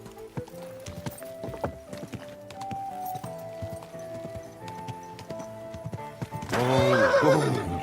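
A horse in Kingdom Come Deliverance II snorts and whinnies while its hooves clip-clop at a steady walk, ending in a loud, close neigh; a voice speaks faintly beneath.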